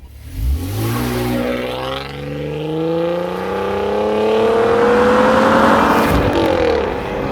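A Jeep accelerates hard from a standstill in a race against an electric car, its engine note climbing steadily through the gears, loud and close and rising to a strong roar near the end, with no talk over it.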